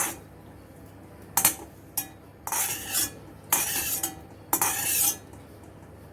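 Dry-roasted cluster beans pounded in a mortar and pestle, four or five separate bursts of crunching and scraping with short quiet gaps between them, close and alone.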